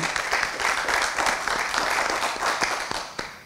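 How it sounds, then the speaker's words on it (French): An audience at a conference on air quality, health and breast cancer screening applauds a speaker, producing a dense, steady wash of many hands clapping at moderate distance for several seconds. "Monsieur Jaubert, on vous applaudit"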